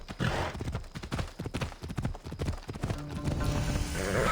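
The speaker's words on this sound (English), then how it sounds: "That must be Spiro. Looks like a sturdy horse." A sturdy horse clip-clops in the video game Assassin's Creed Odyssey, a rapid, uneven run of close hoof beats that continues under background game ambience.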